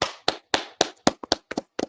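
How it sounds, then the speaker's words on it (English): A small group claps in a brief round of applause, about ten sharp, separate hand claps in an uneven rhythm, close and clear with no other sound. "please join me in giving a round of applause"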